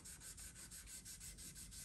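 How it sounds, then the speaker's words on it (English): Rhythmic wet sanding with 1000-grit paper on a rubber block over a 1964 Fender Mustang guitar's finish, about nine quick back-and-forth strokes in a steady, close, quiet pattern. "So I can level this with 1000 grit paper on a rubber block."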